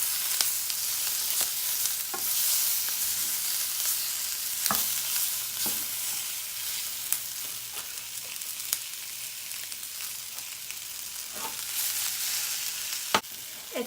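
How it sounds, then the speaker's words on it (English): Onion rings sautéing in a pan, a continuous soft sizzle with intermittent clicks and scrapes of stirring, close and fairly quiet. "My onion ring is starting to get a nice golden touch to it, which is what you want to see when you're sauteing your onions."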